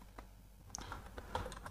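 Keystrokes tap on a computer keyboard: a short, fairly quiet burst of several uneven clicks in quick succession, with no voices over them.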